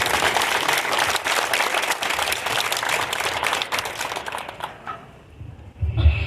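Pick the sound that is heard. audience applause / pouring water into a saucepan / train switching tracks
audience applause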